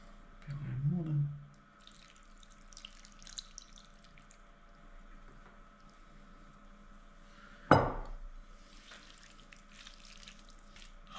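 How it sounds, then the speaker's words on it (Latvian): Water is added to homemade dumpling (pelmeni) dough, with a short splash near the start and a sharper burst of pouring later, both fairly quiet against a soft room background. "Pieliekam ūdeni."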